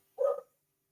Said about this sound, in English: That's a dog, by the way, not a person. She just barks at random people.